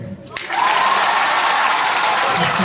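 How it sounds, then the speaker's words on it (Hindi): Applause breaks out for a team at a school quiz competition, steady and dense clapping from a crowd that swells quickly and carries on evenly. "टीम गालिब के लिए छोटा तालियां"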